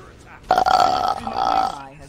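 One long, loud, close-up burp from a burp contest, a deep gurgling belch lasting over a second that starts abruptly and trails off.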